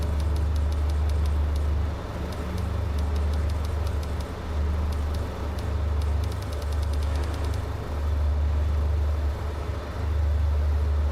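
A car engine in a racing video game drones steadily and loudly, a low continuous hum with a faint rhythmic ticking layered on top.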